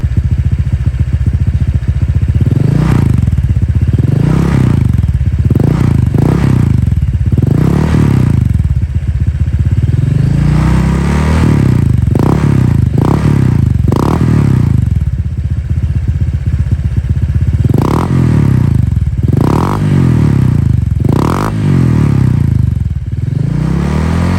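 A Vario scooter engine revs repeatedly up and down, loud and close, with rising and falling whines over a steady rattling idle.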